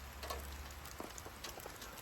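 Scattered drips or raindrops fall from trees during a warm thunderstorm, a handful of faint, irregular taps over a quiet background with a low hum.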